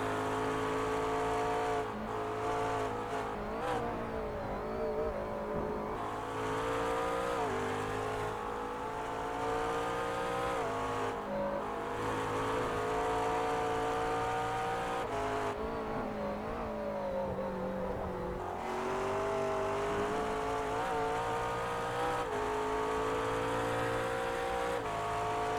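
Race cars in the iRacing sim drone continuously at high revs, engine pitches rising and falling through gear shifts as the pack runs close together, loud and steady throughout with no talk.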